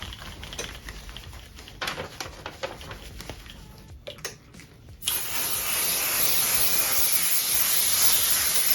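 Spray of 505 temporary fabric adhesive: a steady, loud aerosol hiss starts abruptly and runs unbroken for several seconds, after a stretch of quieter handling clicks and taps.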